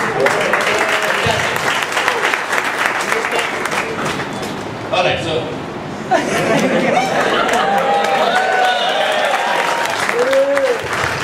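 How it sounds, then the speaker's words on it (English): An audience applauds and cheers at a classroom-style gathering, a dense wash of clapping and chatter with scattered laughter, while someone speaks briefly over the noise. "Everybody is cheering."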